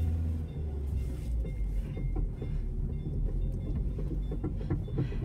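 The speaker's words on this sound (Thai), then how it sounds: "รถไฟมาพอดีครับ" Train rumbling past at a level crossing, a dense, continuous low roar with rhythmic clicking of wheels over rail joints, steady and close throughout.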